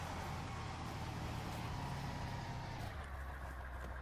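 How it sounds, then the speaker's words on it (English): A giant truck engine in the video game DayZ rumbles loudly and steadily, a dense low drone that holds constant before easing slightly near the end. "This giant truck is so freaking loud."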